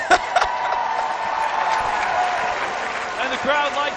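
A college baseball crowd at Mississippi State applauds and cheers, with a burst of clapping at the start and crowd noise and voices continuing underneath throughout.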